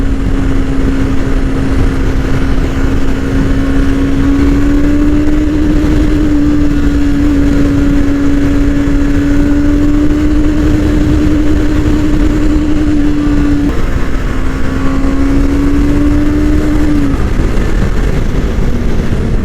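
A motorcycle engine redlines in third gear at about 126 km/h, a loud, steady high-revving drone with wind roar, holding pitch for nearly twenty seconds.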